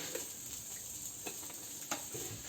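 Paprika frying in oil in a pot, giving a steady soft sizzle with a few faint ticks and stirring knocks.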